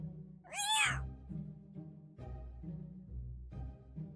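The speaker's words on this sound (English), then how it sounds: "This is my cat." A cat gives one clear rising meow, close and fairly loud, then calm backing music continues on its own.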